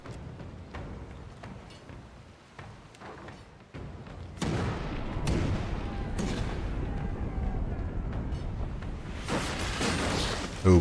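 Ship cannons firing during a naval battle in Pillars of Eternity 2, several sharp booming shots at irregular intervals, heaviest and densest in the second half, over a continuous rumbling battle bed.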